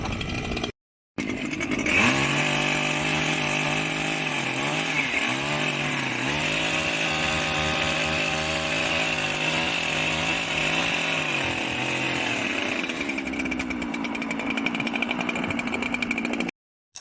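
A petrol chainsaw runs loudly and close up during tree cutting, a steady, high buzzing roar that holds for about fifteen seconds, with brief dips in the engine note as it works, then eases off toward the end.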